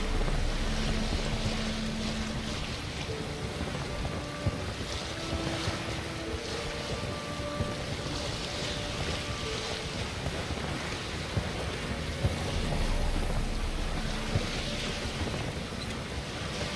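A sailing boat crosses the open sea in The Witcher 3, with continuous wind, creaking and waves washing against the hull, plus a few faint in-game tones and small knocks over a steady bed.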